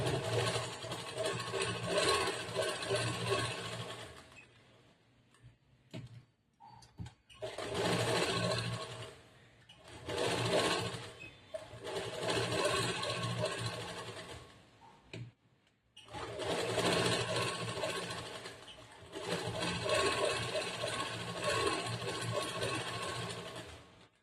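Electric sewing machine stitching a blouse lining, running in long whirring bursts of several seconds separated by short pauses, close and steady with no talking.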